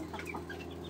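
Chickens on a small village farm near Lahore clucking softly, a few brief faint calls close by.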